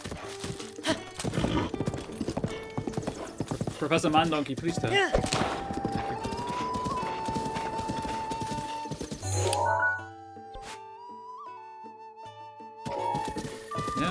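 Horse hooves clip-clopping during riding in the video game Zelda: Breath of the Wild, a rapid rhythmic gallop mixed with game music and a whinny, while a player talks over it.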